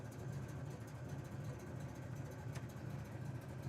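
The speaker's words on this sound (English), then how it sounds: "Idling good." The engine of a 1967 Chevrolet Chevelle SS idles with a steady, low, even rumble that stays constant throughout, quiet and without any talking.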